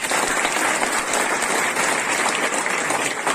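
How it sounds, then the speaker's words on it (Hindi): Audience clapping at a business training and motivational meeting, a continuous, loud burst of many hands that holds steady for several seconds, with no speech over it. "जोरदार ताली से"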